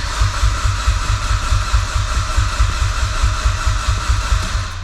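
A Mitsubishi Evo X with a giant turbo on the stock engine idles after a hard start, a low, rhythmic, slightly lumpy throb pulsing steadily and close by.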